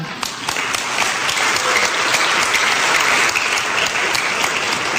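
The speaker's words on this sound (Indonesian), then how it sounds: "Tepuk tangan" An audience at a church sermon breaks into loud, sustained applause, a dense and even roar of clapping that fills the space with little change in level.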